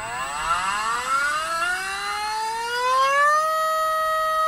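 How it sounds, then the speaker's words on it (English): An SMC LowRider 13.5T brushless RC car motor spins up on a test bench with 50 degrees of timing, its rising electric whine climbing steadily in pitch before holding a high, steady tone. "So now let's go back and run an RPM test and see how much RPM we get out of it versus amperage."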